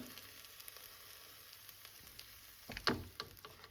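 Vegetables and rice sizzling in a pan after cream goes in, a faint steady hiss that swells into a louder burst of bubbling sizzle near the end, close and without speech.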